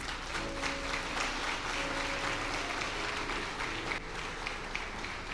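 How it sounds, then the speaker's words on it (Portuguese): Congregation applauding in a church service, a moderate, steady wash of clapping that holds throughout, with faint voices mixed underneath. "aplauda o Senhor pela vida dele"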